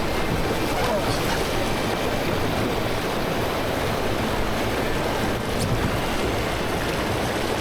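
Canoe paddling on the St. John River in northern Maine, a steady wash of moving water and wind with occasional paddle splashes, heard close and continuous under faint voices.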